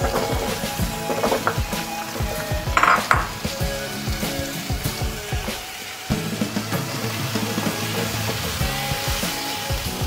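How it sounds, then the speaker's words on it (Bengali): Pumpkin pieces fry in a little oil left over from fried fish, a soft continuous sizzle up close with frequent clinks and scrapes of a spatula on the pan as they are stirred. "এর মধ্যে আমি কুমড়োগুলো দিয়ে একটু ভেজে নেব।"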